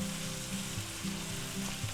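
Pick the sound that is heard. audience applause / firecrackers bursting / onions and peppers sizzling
onions and peppers sizzling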